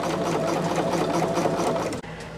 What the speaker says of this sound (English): I am going to just go on and start sewing this set of pieces